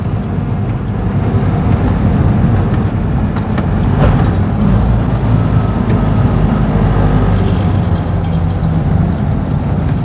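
A 1959 BMW Isetta 300 microcar drives along a road toward Devil's Bridge, its small engine droning steadily with heavy low rumble and road noise throughout, close and loud, with no talking.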